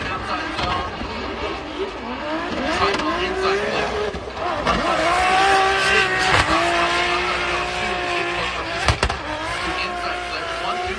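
A drift car at Formula Drift Atlanta qualifying roars at high revs with squealing tires throughout, its engine note rising and falling through the run, with a commentator talking over it.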